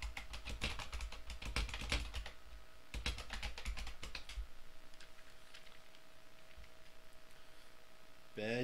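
Computer keyboard typing during a Resident Evil session on a Sega Saturn, with bursts of rapid key clicks in the first half, then sparser, steady tapping under a low background hum.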